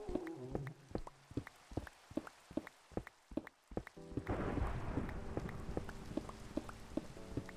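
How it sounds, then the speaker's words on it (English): Minecraft thunderstorm with rain, first a run of sharp rhythmic clicking taps, then a heavy burst of thunder that rolls into a dense, steady hiss of rain with taps continuing on top. "Is this a thunderstorm?"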